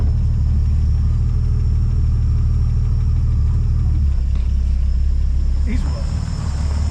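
A 1962 Ford Falcon barn find runs steadily after its first start in over two decades, a loud, continuous low rumbling idle close by, with voices talking over it.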